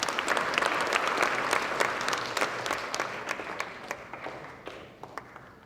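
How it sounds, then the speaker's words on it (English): Audience applause at a 30-year Convention on the Rights of the Child commemoration, dense steady clapping that fills the room and gradually thins out toward the end, with sharper individual claps standing out. "they deserve a clap, wherever they are"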